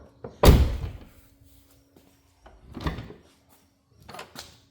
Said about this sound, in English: So you can just shut the door.